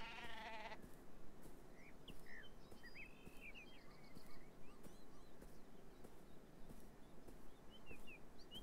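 Sheep bleating in the video game Beyond Eyes, a few short faint bleats over a soft outdoor ambience with occasional light bird-like chirps.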